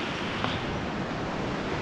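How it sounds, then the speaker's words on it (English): Steady broadband rushing of water in Sitka, Alaska, constant and fairly loud, with no breaks or voices over it. "You can hear the water rushing in the background"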